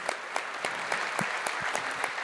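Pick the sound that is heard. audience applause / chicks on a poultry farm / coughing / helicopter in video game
audience applause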